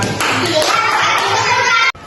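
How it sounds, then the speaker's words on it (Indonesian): Schoolchildren in a classroom clapping hands together on a teacher's cue, a brief, loud, dense patter of small hands that cuts off abruptly, with young voices mixed in. "Tepuk tangan"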